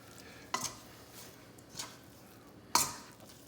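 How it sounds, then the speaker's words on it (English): A Danish whisk stirs through pizza dough in a bowl, giving three soft, separate scraping thumps against a quiet background. "You'll feel it releasing better from the Danish whisk."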